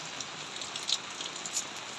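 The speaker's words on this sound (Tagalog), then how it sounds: "Uwan guys oh." Steady rain pattering on surfaces, a soft even hiss with scattered faint drop taps, close and quiet, with no voices.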